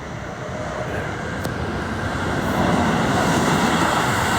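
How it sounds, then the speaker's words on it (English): A train rumbles past houses in Kyoto at night, a steady roar that builds louder toward the end, close by and continuous, with no talking over it. "It lives right next to the train, unfortunately, so it's a little bit loud."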